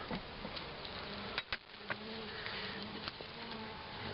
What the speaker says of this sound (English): Watch out, little bee, get out of there.